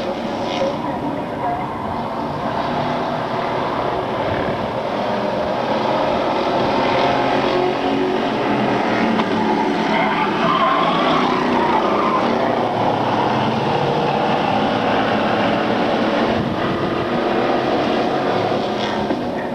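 Race cars roar off together at the drop of the green flag, a dense, continuous wall of engine noise that stays loud and steady throughout.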